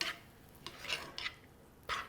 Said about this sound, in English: And I'm just going to give that a little stir.